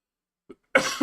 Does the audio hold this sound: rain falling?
no